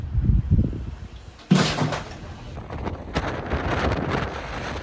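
Strong hurricane wind from Hurricane Milton roaring across a microphone in Florida, with heavy buffeting gusts and a sudden loud blast midway, continuing as a steady rushing roar.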